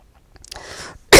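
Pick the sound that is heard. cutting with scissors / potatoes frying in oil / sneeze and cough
sneeze and cough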